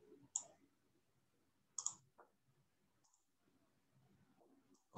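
Mouse button clicks on a computer, a crisp pair roughly a second and a half apart, then a faint third click, with light background noise between and a sharper tap at the very end.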